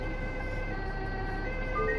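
An ambulance siren in the video game Bus Simulator 16 sounds as a steady, continuous wail of sustained tones, loud and unbroken over road traffic rumble, with no talking.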